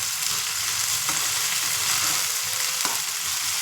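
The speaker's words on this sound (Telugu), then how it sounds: "ఇది పచ్చి వాసన పోయేంత వరకు వేయించుకోవాలి." Masala sizzles in a pan for a village-style country chicken curry, with loud steady frying and occasional scrapes from a stirring spoon, no talk.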